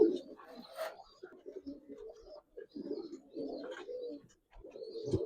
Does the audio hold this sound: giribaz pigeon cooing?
yes